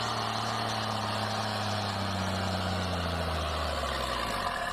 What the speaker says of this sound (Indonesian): Ada traktor bajak sawah.